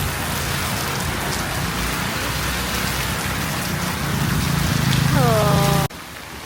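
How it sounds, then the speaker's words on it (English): Heavy rain pours onto a road in Dehradun, a loud, dense, unbroken roar that swells slightly, with a brief tonal sound near the end before it cuts sharply to a quieter hiss. "it's raining very bad today and I am stuck into it"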